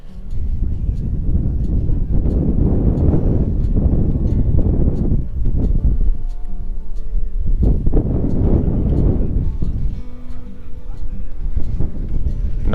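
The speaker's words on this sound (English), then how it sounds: "here's one problem about camping out on the playa when it gets windy." Gusty wind buffets the microphone while camping out on the open playa in southeast Oregon, with loud rumbling surges that rise and fall throughout and briefly ease in the middle.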